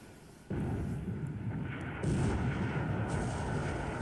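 Naval shells fire and strike warships in the War in the Pacific strategy game, heard as abrupt, loud booming blasts with rumbling tails, one near the start and another midway, layered over a continuous dull roar.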